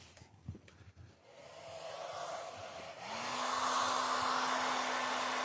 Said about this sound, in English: we're going to use the hair dryer.